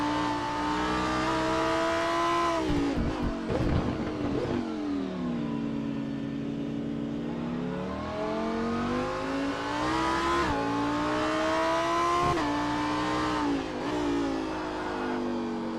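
Onboard a Lamborghini Super Trofeo race car at Laguna Seca, the engine howls loud and close, climbing through the revs, dropping sharply on downshifts around a braking zone, then winding up again through several gear changes.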